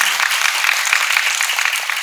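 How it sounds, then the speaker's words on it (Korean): Steady applause from an audience at a film screening Q&A, many hands clapping continuously for a couple of seconds. "박수 부탁드립니다"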